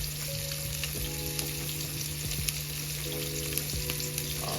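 Steaks frying in a pan, a steady close sizzle and crackle that runs unbroken throughout, with a few faint scrapes and ticks underneath and no talk.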